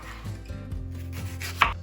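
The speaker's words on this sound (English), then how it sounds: "So we're gonna slice the red onion, and then it's gonna go all in this pot." A knife slicing a red onion thinly on a cutting board, several quick close chops in an irregular rhythm with a sharper knock near the end, no talking.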